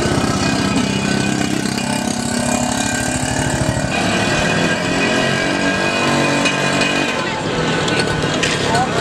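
A Ninja motorcycle engine idling nearby, a steady low rumbling putter that runs continuously under conversation from people talking throughout.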